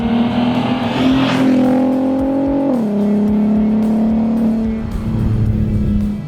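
A Volkswagen Golf R32 with a dual-clutch gearbox revs hard nearby, its engine note climbing steadily, dropping sharply as it shifts, then holding a strong sustained growl.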